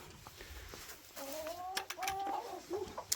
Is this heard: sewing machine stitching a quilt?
no